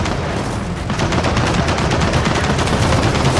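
A turret machine gun fires in Gears of War 4, a loud, dense, continuous stream of rapid shots with heavy battle noise throughout.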